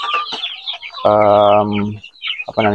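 Chickens cluck and squawk inside a semi-closed poultry house, a busy overlapping flock chorus with one loud sustained harmonic call standing out near the middle, close and lively.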